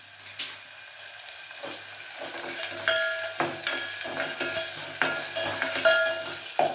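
Onions frying in a pan for a bitter gourd kootu, a moderate sizzling hiss broken by repeated sharp clicks and scrapes of a spoon stirring against the pan, close and without talk.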